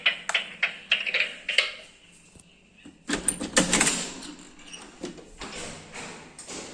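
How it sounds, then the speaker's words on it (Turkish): A house door is opened at home around dinner time: a run of sharp clicks and latch rattles, a short pause, then a denser burst of handle and frame noise before it fades. "Bir dakika ilk önce kapıyı açalım."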